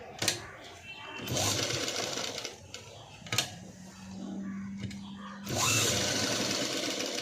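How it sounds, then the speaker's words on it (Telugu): A sewing machine stitches the neckline of a sleeveless, padded, cut-work blouse, running in loud whirring bursts of several seconds separated by short pauses and sharp clicks, with a steady low hum in the middle. "ఇలా నెక్ అనేది నీట్గా మూలలు అనేవి నీట్గా తిరిగేలాగా స్టిచ్ అనేది వేసుకోవాలి."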